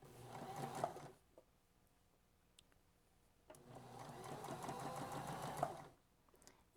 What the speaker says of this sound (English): open that seam up like so and sew down in a 1/4 inch seam